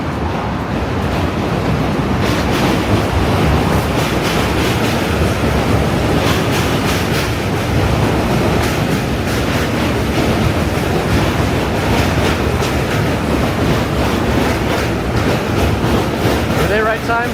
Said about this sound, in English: J train coming in.